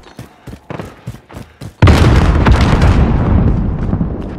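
A grenade detonates in the video game Modern Warfare: a few short sharp pops come first, then a loud close boom bursts out and rumbles into a long, rough, fading tail.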